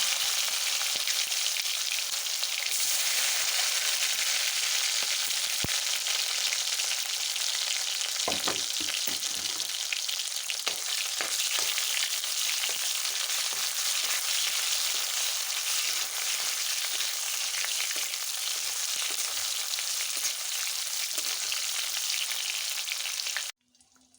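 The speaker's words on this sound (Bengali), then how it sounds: "টমেটোটা আমার ভাজা হয়ে গিয়েছে" Tomatoes and cumin fry in a wok with a loud, steady sizzle that hardly changes and carries on for about twenty-four seconds. A few light stirring scrapes cut in now and then, and the sizzle stops abruptly at the end.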